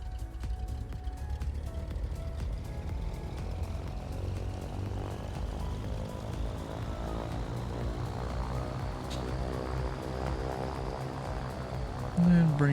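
A Cessna 414 twin-engine airplane runs its piston engines on the ground, a steady throbbing drone with a slowly rising pitch as the revs change, close and constant.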